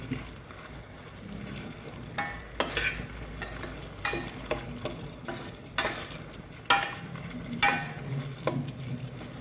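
A spoon stirs aviyal of onion, raw plantain and pepper powder in a pan. Repeated scraping strokes come every second or so over a soft, steady sizzle, close up, with no talking.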